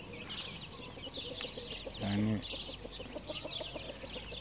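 Backyard chickens, including a white hen, cluck softly and continuously under someone speaking Turkish, with one louder, clearer call rising briefly in the middle.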